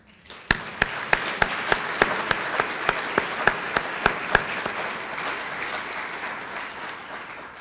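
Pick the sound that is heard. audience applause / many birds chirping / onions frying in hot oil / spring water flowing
audience applause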